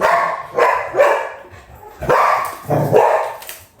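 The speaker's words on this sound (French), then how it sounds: "j'ai les chiens qui aboient." Dogs bark in several sharp bursts, loud and nearby, with short pauses between barks and no speech.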